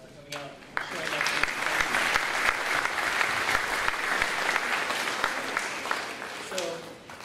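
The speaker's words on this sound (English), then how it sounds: "let's give yourselves all a round of applause for coming out and sharing that" An audience of students, parents and staff claps at a school gathering, the applause swelling quickly after a short spoken lead-in and holding steady before tapering off, with a voice heard at the start and end.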